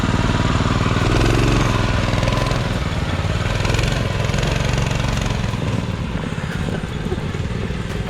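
A mini monster truck go-kart's engine runs at full throttle, a loud, continuous buzzing drone that stays steady throughout, close by and without speech.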